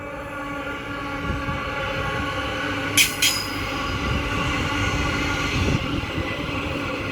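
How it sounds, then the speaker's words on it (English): An EMU passenger train pulls into a platform, a steady rumbling roll of wheels on rails with a sharp brief squeal midway, close and continuous. "I believe we should have a train coming soon"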